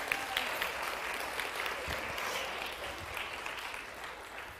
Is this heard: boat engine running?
no